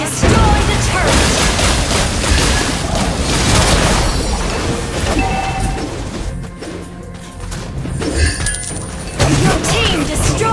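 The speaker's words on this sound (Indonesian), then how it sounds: "Your team destroyed the turret." Turret being destroyed in a mobile multiplayer battle game, loud booming crashes and blasts layered with game announcer voice and dense effects throughout.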